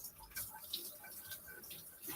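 Tap water runs and splashes softly over fruit being rinsed before breakfast, a faint, steady trickle with no talking.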